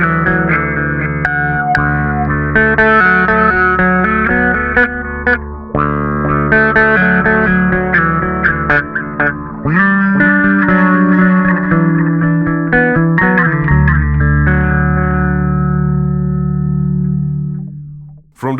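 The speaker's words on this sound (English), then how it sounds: "From the pedals I chose the compressor, the autobar, the chorus and the delay to create this sound." Electric bass run through a Darkglass plugin with compressor, auto-wah, chorus and delay pedals, playing a sustained, effected melodic line with a thick low end and shimmering modulated upper tones, continuous and loud for the whole passage.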